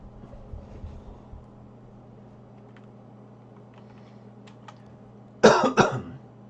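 A short burst of harsh coughing erupts near the end, two or three close, loud hacks over a low steady background hum after several seconds of near quiet.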